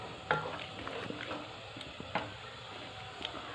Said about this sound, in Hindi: इसको अच्छी तरह हिला लेंगे। 2 मिनट तक के लिए इनको हम भून लेंगे।